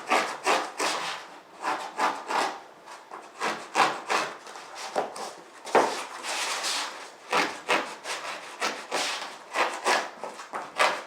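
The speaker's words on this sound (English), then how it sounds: "on this CCF, I found that actually doing this scratching motion will help get the duct tape good and stuck to it" Rapid back-and-forth scratching of duct tape being pressed onto a closed-cell foam camping pad for a DIY seat, steady rhythmic rasping strokes close up, loud and continuous with no talk.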